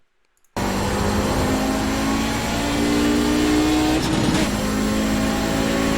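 Audi 90 GTO race car in iRacing at Road America, its engine droning loud and steady after a sudden start, with a brief rise in pitch near the end and no voices.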